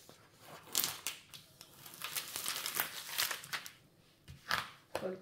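Thin transparent protective film on a diamond painting canvas crinkles in close, soft bursts, with irregular crackling rustles and a few sharper pops near the end, quiet and without talk.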